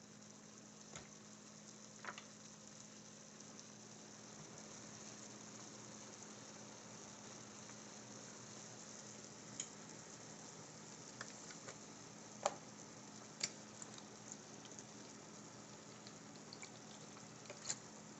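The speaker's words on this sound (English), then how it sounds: "the vegetables too that are sauteing in the butter right now" Vegetables sautéing in butter for a Thanksgiving dish give off a steady, quiet sizzle that runs unbroken throughout, with a few faint ticks and clicks scattered over it.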